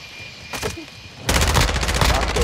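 Rapid automatic gunfire from a Modern Warfare 2 match, using an ISO 45, bursts in loudly after a brief quieter stretch with a couple of isolated shots, then continues as a dense, sustained volley.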